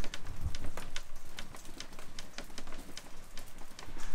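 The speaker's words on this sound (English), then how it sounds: "it's raining kind of hard outside" Steady rain falls outside a tent during a backyard overnight campout, a dense continuous patter with sharper individual drop hits, fairly loud and close, with no talking.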